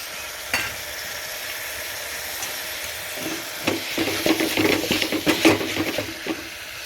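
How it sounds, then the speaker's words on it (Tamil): Chopped banana stem frying in masala, with a soft steady sizzle that grows into denser stirring and scraping clatter of a spoon against the pan toward the end, no talk. "மசாலா கொஞ்சம் எல்லாம் பச்சை வாசம் போனதுக்கு பிறகு நம்ம அரிஞ்சு வச்ச வாழைத்தண்டு சேர்த்துக்கணும்"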